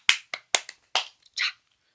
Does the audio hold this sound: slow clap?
yes